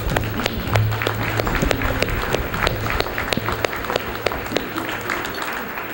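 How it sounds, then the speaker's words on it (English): Educators at an awards symposium get a sustained round of applause, a steady, fairly loud roomful of clapping with a few sharper individual claps standing out, continuing evenly to the end. "Let's give them another round of applause."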